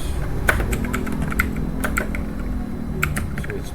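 Fingers tap commands on a computer keyboard in an irregular run of close, clicky keystrokes with a short pause partway, no voices.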